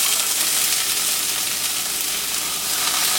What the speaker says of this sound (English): let's go ahead and add our onion to the cast iron